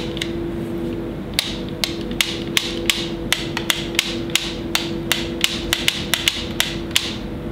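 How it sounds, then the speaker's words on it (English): PS4 controller triggers click repeatedly in a quick, irregular series of sharp, close taps over a steady background hum, with no talking. "The triggers on the PS4 controller, you know, they're a bit louder."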